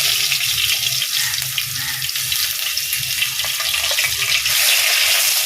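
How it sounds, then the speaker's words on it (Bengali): Onion paste frying in a pan, giving a steady, loud, close hiss with a watery, rushing texture that swells slightly near the end. "পেঁয়াজটা একটু লাল করে ভেজে নেব।"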